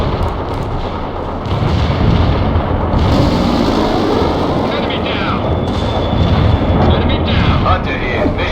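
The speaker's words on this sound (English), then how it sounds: "incoming fire, Lieutenant Parker. You should take out those enemy mortars ASAP." Incoming enemy mortar fire in the real-time strategy game World in Conflict: a loud continuous rumble of artillery blasts and battlefield noise throughout, with voices talking over it.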